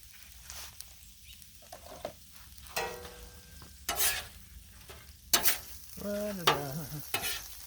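Onion, peppers, bacon and sausage for beef fried rice cooking on a Blackstone griddle: a soft sizzle broken by scattered scrapes and clatters, with a brief whining tonal sound near the end.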